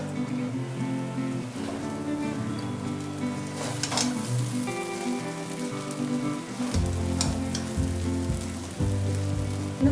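Sabudana khichadi (tapioca pearls with tomato) sizzles in a pan while being tossed, a soft continuous crackle with stirring scrapes and faint background tones, close and without speech.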